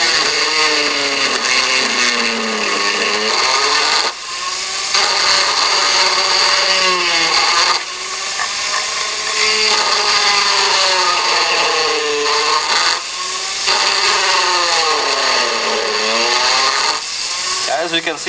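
Mini lathe fitted with a milling spindle cutting blind slots with shallow cuts, a loud whining motor with rising and falling cutting tones in repeated passes, each broken by brief pauses.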